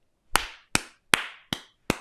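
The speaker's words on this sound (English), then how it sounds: "Is anybody clapping?" Five sharp, separate hand claps, evenly spaced at a slow, deliberate pace, close and dry with short decays, with no talking.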